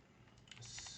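Computer keyboard keys are tapped in a quick, faint run of clicks, several keystrokes close together near the end.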